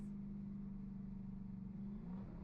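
Very quiet car engine heard from inside the cabin, a low steady hum with a faint rise in pitch near the end, alone and distant-sounding.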